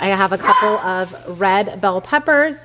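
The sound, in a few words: dog barking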